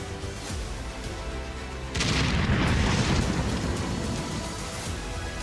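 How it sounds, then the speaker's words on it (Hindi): A white Hyundai i20 car explodes in Delhi, caught on CCTV: a sudden heavy boom breaks in over steady background hum and becomes a loud, sustained roar that slowly eases. "सफेद रंग की I-20 कार में जोरदार धमाका हुआ"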